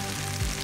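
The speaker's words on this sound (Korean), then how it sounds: "살얼음 낙지를 비법 양념에 잘 버무려 불판 위에서 지글지글 익혀주면" Spicy marinated octopus sizzles steadily on a hot griddle, a continuous frying hiss held close and moderately loud with no talking.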